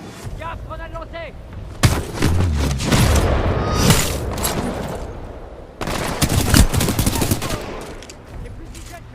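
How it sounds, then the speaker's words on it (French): Video game Titanfall 2 combat: a grenade thrown amid heavy automatic gunfire, with loud rattling bursts, booming thuds and an explosion-like crash, and a voice calling out over the din. "Gaffe, grenade lancée!"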